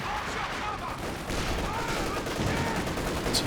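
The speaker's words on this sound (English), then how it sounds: "Incendiary rounds once again." Dense, continuous gunfire from incendiary rounds rattles through a Company of Heroes 2 battle, loud and sustained, with a commentator's voice partly under the shooting.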